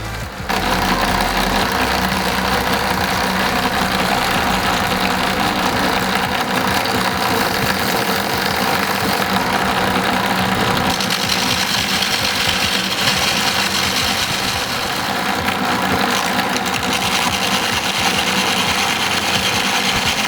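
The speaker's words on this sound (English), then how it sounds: "Here I have used a 12 volt adapter for this motor." A homemade belt sander driven by a 12 volt motor runs steadily and loudly throughout, a continuous whirring drone with belt rasp and no pauses.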